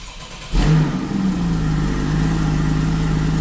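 A Porsche 981 Cayman S engine, started cold, fires up and settles into a deep, throaty rumble, holding a steady loud drone with a low exhaust burble throughout.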